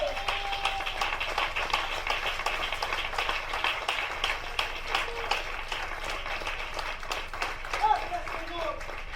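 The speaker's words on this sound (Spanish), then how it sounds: "denle un aplauso al Señor en esta tarde" A church congregation stands and applauds the Lord during an afternoon service, steady crowd clapping running throughout with voices and brief speech mixed underneath.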